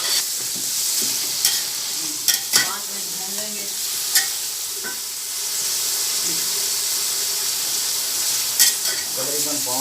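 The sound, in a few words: biryani masala frying in pot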